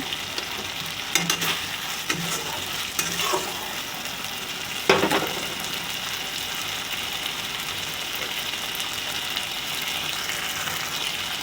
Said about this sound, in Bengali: এবারে দিচ্ছি আগের থেকে ভিজিয়ে রাখা কাঁচা ছোলা, অল্প লবণ দিচ্ছি,